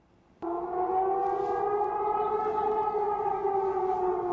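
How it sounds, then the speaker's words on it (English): Air raid sirens wail over Damascus, starting abruptly after a moment of quiet and then holding a loud, sustained, layered tone that drones on steadily with no voices. "The first one here, you can hear the air raid sirens."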